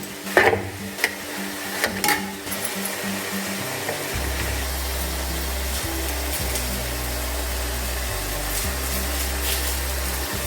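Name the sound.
tomatoes sautéing in a pan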